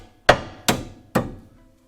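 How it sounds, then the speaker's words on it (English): Three sharp metallic hammer blows, evenly spaced and ringing briefly, strike a stuck bolt on the rear subframe of a 1990-97 Mazda Miata, loud and close with no voices. "Good old hyper tough Walmart hammer"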